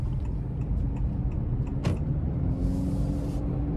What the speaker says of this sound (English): you can hear the CVT kind of keeping a weird idle there